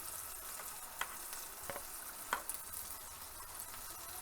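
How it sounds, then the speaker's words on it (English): Faint, steady frying sizzle of mushrooms warming in a pan, with a few sharp pops and crackles scattered throughout, quiet and close. "That popping that you hear are my mushrooms warming up."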